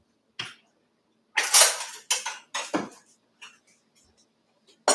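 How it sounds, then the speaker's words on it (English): A cutting board grabbed and set down in a home kitchen, with a run of close, hard wooden knocks and clatters in separate bursts, then a few softer taps and a final knock. "So I'm going to grab my cutting board for this."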